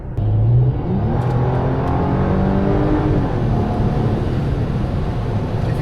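A Mercedes AMG on the motorway after a Bosch 010 fuel pump fix, its engine droning loudly from inside the car with a rising tonal whine as it accelerates, over steady road rumble, with no talking.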